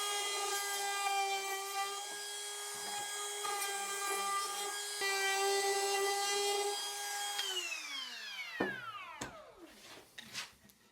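A power tool whines steadily while rounding over the front edge of a wooden hangboard, a high tonal drone with faint rubbing that winds down in pitch near the end, followed by a few knocks.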